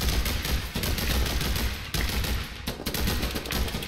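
Dense, continuous gunfire from The Hong Kong Massacre, a shooter video game, with rapid overlapping shots and bursts filling the whole stretch at a steady, loud level, no talk over it.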